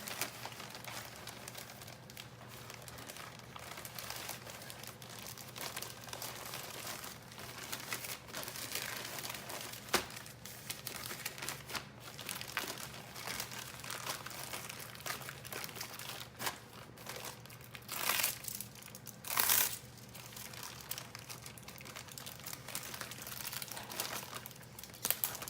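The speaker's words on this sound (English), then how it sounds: "put it into an eBay bag" Plastic eBay mailer bag being handled while an item is packed, close continuous crinkling and rustling with sharper crackling bursts toward the end, no voices.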